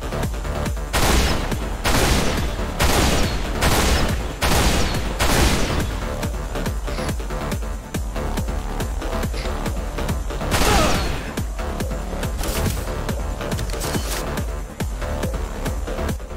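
A Needle Rifle fires in Halo Reach as a steady string of sharp, evenly spaced shots, each one a loud crack. A brief rapid burst comes partway through.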